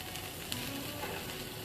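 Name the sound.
morel mushrooms sautéing in a pan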